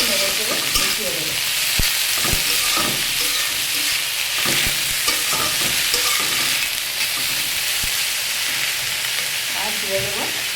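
Tender red amaranth greens fry and crackle in a pan, a dense continuous sizzle punctuated by scraping stirs and clatters, close and loud throughout.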